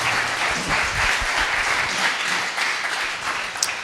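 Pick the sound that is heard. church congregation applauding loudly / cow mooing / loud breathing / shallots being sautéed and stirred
church congregation applauding loudly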